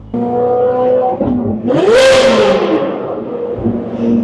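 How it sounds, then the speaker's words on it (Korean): A car engine revs hard through its exhaust, rising to one sharp, loud peak before settling back to a throaty idle, recorded close with no talk over it. "제가 역대 타본 차 중에 배기음 제일 좋은 것 같아요"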